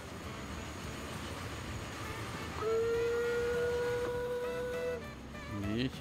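A freight train in the video game Transport Fever 2 rumbles along the mainline track, and a sustained whistle sounds for a couple of seconds partway through before fading back into the steady rolling noise.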